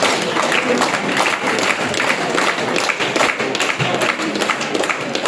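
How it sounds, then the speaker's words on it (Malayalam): Audience applause at a book launch event, a dense, steady wash of clapping from many hands filling the whole stretch at close range, with no speech over it. "ഓക്കെ, കൈയടിക്കാൻ."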